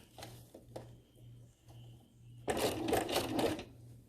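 A sewing machine fitted with a walking presser foot runs a straight top stitch along drapes, starting with a few short separate clicks and thumps before a dense, loud burst of fast stitching near the end.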